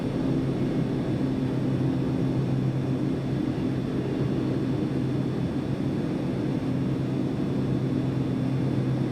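Steady propeller engine drone of a Kodiak aircraft in a flight simulator during mountain flying in Papua New Guinea, a continuous loud hum with stable tones, no talk.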